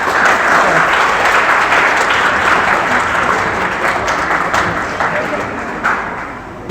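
Sustained, dense applause from an audience at a Pakistan Day 2021 general-knowledge quiz competition in a Karachi academy hall, loud and steady throughout and easing slightly toward the end.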